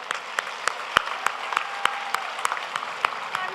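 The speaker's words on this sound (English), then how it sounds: "A big round of applause." An audience at a school musical theatre show gives a round of applause, with a few loud, distinct hand claps ringing out in a steady rhythm over softer scattered clapping.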